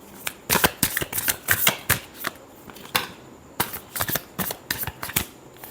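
Tarot cards being shuffled close up, several quick riffling bursts of sharp card flicks split by short pauses, loud and crisp with no voices.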